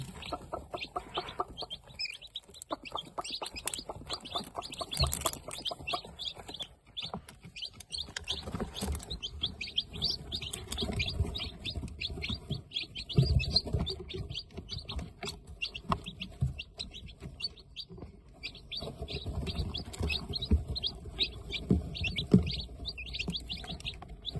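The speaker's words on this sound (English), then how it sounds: "Here are some chicks feeding in the feed bowl." Young chicks chirp and cheep busily as they feed together from a feed bowl, with dense overlapping high tweets and occasional soft clucks throughout.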